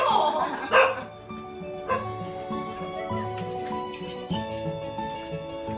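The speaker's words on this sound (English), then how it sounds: "It's me you're barking at." A dog barks at the front door of a house with a garden, several bow-wow barks and yips sounding fairly close over background music.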